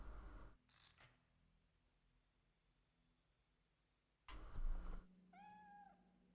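A cat in the horror video game Fatal Frame III meows in a short run of clear, rising-and-falling calls near the end, after a couple of sharp clicks and a burst of noise in a quiet room.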